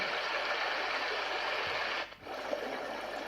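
A rechargeable white noise machine plays a trickling water setting, a steady hiss of running water that dips briefly near the end before resuming.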